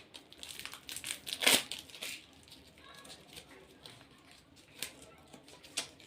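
Biscuit packaging bags crinkle and crush as they are torn open, with one loud crackling burst early on and softer rustles after, under faint talk.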